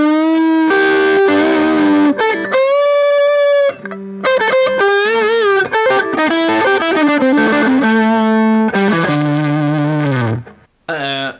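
A heavily distorted electric guitar plays a solo lick, with sustained bent notes and quick phrases in a loud, close, continuous run and brief pauses between.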